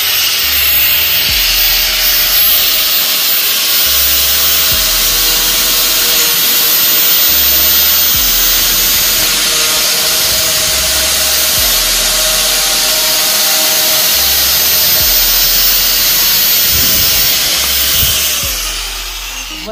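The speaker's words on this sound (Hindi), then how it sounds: "अभी स्टिंग के बोतल को काट के देखेंगे" A Sting energy drink bottle is sawn with a sheet of paper in a steady, loud, hissing rasp of repeated back-and-forth strokes that continues close to the listener for nearly twenty seconds.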